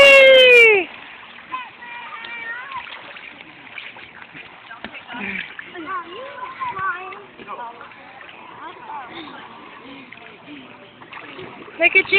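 Water splashes as someone swims, with irregular close splashes and sloshing throughout, under excited voices, including a child's, talking and calling out.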